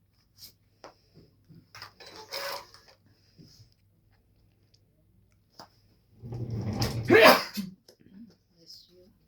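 A single sharp sneeze bursts out loud and close partway through, amid quiet room clatter. Someone speaks briefly nearby.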